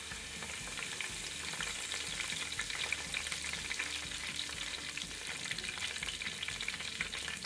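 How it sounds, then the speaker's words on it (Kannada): Curry leaves fry in hot coconut oil in a heated clay pot for a Mangalorean fish masala, giving a steady, soft crackling sizzle with light stirring and no talking. "ತೆಂಗಿನೆಣ್ಣೆ ಬಿಸಿಯಾದ ನಂತರ ಒಗ್ಗರಣೆ ಸೊಪ್ಪು ಸ್ವಲ್ಪ 2 ಕಡ್ಡಿಯಷ್ಟು,"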